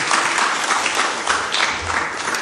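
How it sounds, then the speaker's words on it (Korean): A church congregation applauds steadily for a couple of seconds, a dense wash of clapping hands filling the room. "박수 한번 쳐주세요."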